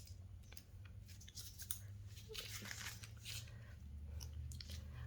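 Scissors cutting a Lily and Fox nail wrap sticker, a few quick, close, crisp snips and faint crinkling, quiet and isolated.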